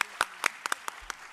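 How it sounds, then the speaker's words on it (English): Sparse, scattered claps from an audience after a dance performance, about eight distinct hand claps spread over a second and a half, close and crisp with quiet gaps between them. "Big round of applause for Annika."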